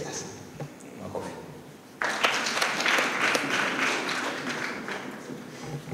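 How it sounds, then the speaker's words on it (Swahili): An audience at a public address on religious leaders and politics bursts into applause after a quieter stretch, the clapping sustained and fairly loud to the end. "Makofi."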